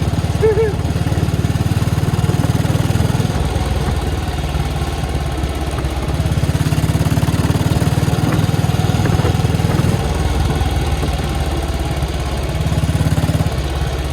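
A classic motorcycle engine runs steadily close by with a loud, even, low throbbing tone that shifts slightly in strength a few times, with no speech over it.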